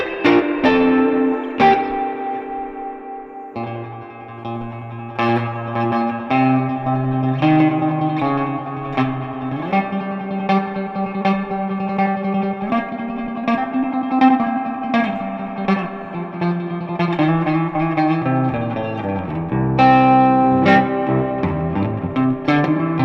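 Electric guitar played through a Strymon Flint reverb pedal with the decay cranked high and the color brightened, chords and single notes ringing out into a long, washy, sustained tail that blurs each attack into the next for over twenty seconds.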